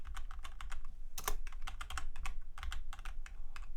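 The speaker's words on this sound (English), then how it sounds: "Let me retype." Steady typing on a computer keyboard while entering a spreadsheet formula, with quick clustered keystrokes and brief pauses, close and clear with no talking.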